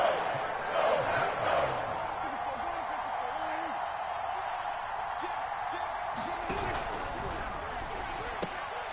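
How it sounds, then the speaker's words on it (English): Big football stadium crowd builds noise before a crucial third down, a broad roaring wash that is loudest early and then settles into a steady hum, with scattered shouts and a few sharp thumps. "And the crowd getting into it as we come up on a big 3rd down."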